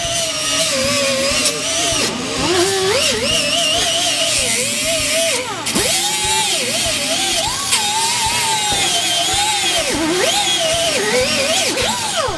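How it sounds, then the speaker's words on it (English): A continuous harsh whine of an angle grinder smoothing welds on Mustang frame rail doublers for subframe connectors, pitch rising and dipping as pressure changes, loud and close throughout. "Grind all welds around the frame rail doublers for a smooth finish."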